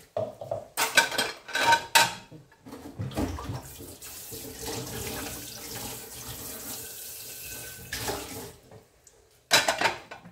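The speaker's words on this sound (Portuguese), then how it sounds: "A louça bate." Dishes clattering in a kitchen sink, sharp bursts of ceramic and cutlery knocks at the start and end around a stretch of running tap water, close and moderately loud, no talking.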